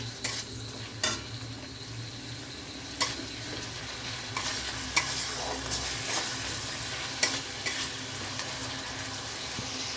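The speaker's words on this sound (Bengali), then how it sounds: "টমেটোটা ছেড়ে দিয়েছি, যে একটু ভাজা ভাজা হয়ে গেছে" Tomatoes and peas frying in a pan for a mutton-fat ghugni, a steady loud sizzle with occasional scraping stirs and clinks of a utensil, no voices.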